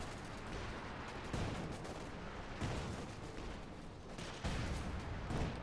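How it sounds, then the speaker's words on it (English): Gunfire crackles across a battlefield in Company of Heroes 2, Wehrmacht against US Forces: rough, distant volleys that swell in a few bursts over a dense, constant rumble, fairly faint overall. "Goodness, getting shot at."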